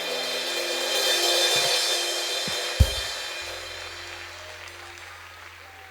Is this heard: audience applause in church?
yes